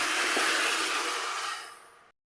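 Water gushes steadily into a pot of rice for mandi, a loud continuous rushing pour that runs for about two seconds and then stops abruptly.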